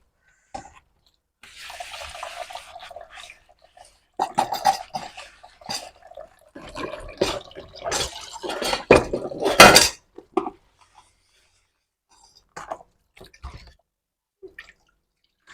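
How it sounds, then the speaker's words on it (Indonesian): Dishes washed under a weakly running kitchen tap, with faint trickling water, a thin stream splashing and clinking plates and cutlery in irregular bursts, separated by quiet gaps. "Memang agak lama ya kalau airnya kecil kayak gini cuci piringnya teman-teman."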